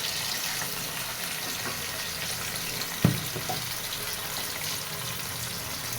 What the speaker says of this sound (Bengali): এর ভিতরে এবার ধুয়ে রাখা আলুগুলো দিয়ে